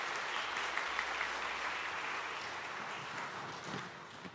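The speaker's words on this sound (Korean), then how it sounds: "함께 박수하면서 연말 시상 마치도록 하겠습니다." Church congregation applauding together at a year-end awards portion of a Korean service, a steady wash of many hands clapping that fills the room and holds evenly throughout.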